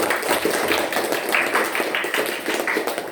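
A class of students claps together at the end of a lesson, a sustained, fairly even patter of many hands with a few distinct louder claps standing out.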